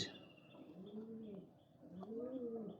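Pigeons coo in a close, soft rolling series of about three throaty calls with faint chirps behind, while young birds are held and shown for sale.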